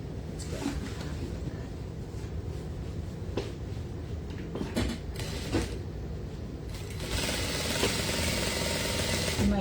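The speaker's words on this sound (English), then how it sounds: "You might notice I'm also sewing with the lining side facing up" A sewing machine runs in short bursts while stitching the lining of a wedding gown, a fast mechanical whir with clicks and pauses, ending in a louder sustained run.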